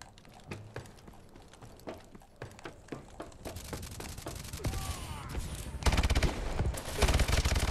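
Machine gun fire in a video game, rapid bursts of shots that start as spaced single cracks and build into dense, loud sustained volleys.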